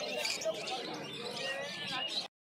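Star finches and Bengali finches chirp busily at the Uluberia pet market, with a dense twittering of small birds close by beneath market chatter, cutting off abruptly at the end.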